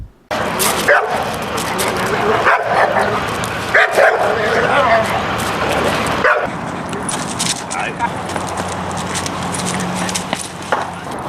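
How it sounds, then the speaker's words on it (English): A reactive dog barks wildly at another dog passing by, loud close yips and bow-wows in rapid bursts with some whimpering, mixed with background voices. "Because it sees a dog, it goes out of its mind."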